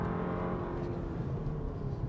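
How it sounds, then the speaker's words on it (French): A Porsche Macan T engine drones steadily while the car is driving, a faint, continuous low hum with no distinct revs or breaks. "Alors le son du moteur là, franchement j'aime pas"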